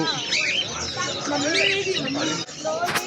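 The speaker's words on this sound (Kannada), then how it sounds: "ಕಲರ್ ಕಲರ್ ಕೋಳಿಗಳು" Colourful chickens at a Friday market in Kuwait, with chirps and clucking calls rising over a busy crowd and voices talking throughout.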